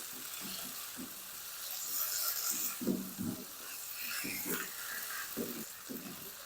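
Beef tikka boti sizzles and crackles in a pan as it is stirred and mixed, a steady close frying hiss with soft scraping stir strokes over about a minute of cooking.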